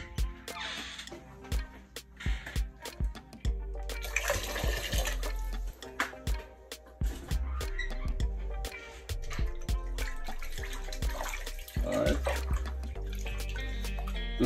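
Water runs and splashes in a sink while a whole yellowtail snapper is washed, flow surging and breaking with handling in uneven bursts, moderately close, with occasional clatter.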